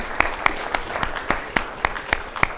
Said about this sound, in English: help me give Frank Spencer a round of applause